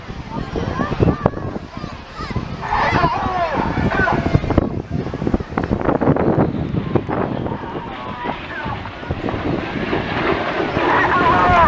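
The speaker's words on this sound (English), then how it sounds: "keep your eyes on these two jets coming in from the right, the synchro pair" Two Red Arrows jets of the synchro pair fly in from the right at the Wales National Airshow. They make a loud, rushing jet roar that swells and fades amid gusty wind buffeting the microphone.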